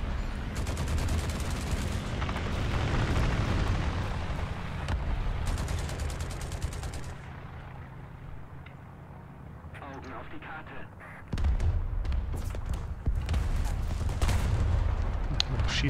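Gunfire in War Thunder, with booming cannon shots and bursts scattered over a rumbling vehicle engine, and someone talking in German over much of it.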